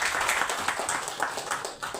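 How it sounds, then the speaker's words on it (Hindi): An audience at a Bahujan YouTuber Meet gathering claps loudly and steadily for about two seconds, with dense, overlapping hand claps filling the hall and no voices heard above them. "अपने लिए एक बार जोरदार ताली बजा दीजिए।"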